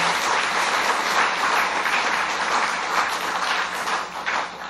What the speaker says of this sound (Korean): 열한 분 큰 박수로 환영하겠습니다